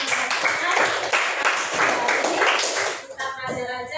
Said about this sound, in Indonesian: Kita tepuk tangan untuk Neymar yang sudah membacakan